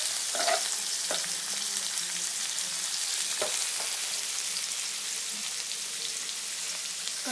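Peanuts, garlic and chopped onion sauté in oil for drumstick bhaji, making a steady, moderately loud hiss of frying with occasional stirring clatters and crackles, close by, without speech.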